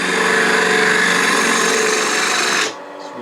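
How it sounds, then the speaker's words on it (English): Spindle gouge on a wood lathe cutting a parallel tenon for chuck jaws, a loud steady rasping scrape that runs continuously and stops abruptly near the end, leaving quiet motor hum. "using a 1/2 inch spindle gouge"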